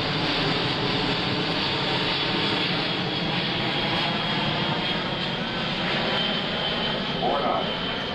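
An airplane engine roars loudly and steadily from close by at an air show as parachutists jump, a constant broad drone mixed with rushing wind.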